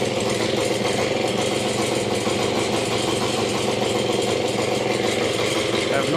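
A 1973 Yamaha ATMX 125 two-stroke motorcycle engine runs steadily at a fast idle near quarter throttle, a loud, continuous buzzing drone with no pauses.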